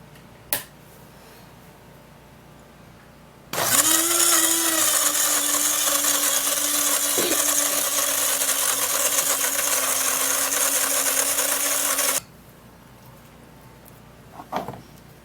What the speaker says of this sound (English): So I'm going to put this into the blender